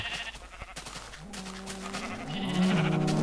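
Sheep bleating in the video game Minecraft, several wavering bleats rising and growing louder toward the end over faint background noise.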